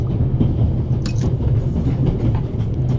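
A moving passenger train in a video game rumbles steadily, with a low rolling drone and faint rhythmic clickety-clack of wheels over rail joints, loud and continuous with no talk.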